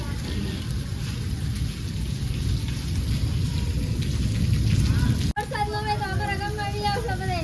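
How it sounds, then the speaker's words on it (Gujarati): Heavy rain pours steadily in a village storm with strong wind, a dense loud roar throughout; a voice rises over it near the end. "અમારા ગામમાં વરસાદ છે અને પવન અને સાથે વાવાઝોડું પણ છે"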